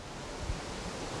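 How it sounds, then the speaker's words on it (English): Steady wind roaring across the microphone on a disc golf course, a broad rushing noise with a brief low gust thump partway through. "Looks like the wind is picking up."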